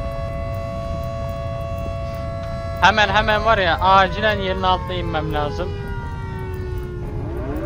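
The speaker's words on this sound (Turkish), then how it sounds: "Sirenler çalıyor." Warning sirens in the Volcanoids video game hold a steady tone under low machine rumble, while someone talks urgently in Turkish partway through.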